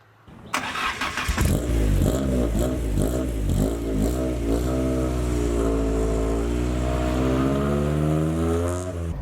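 A rebuilt Mk2 Ford Escort with a swapped-in Zetec engine cranks and fires, then revs up and settles into a strong, steady idle with rising and falling throttle blips, loud and close with no talking.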